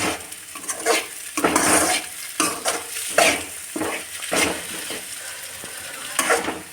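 Egg and onions for fried rice are stirred in a pan, with a soft sizzle under repeated close scraping and clattering of a spatula against the metal in uneven bursts.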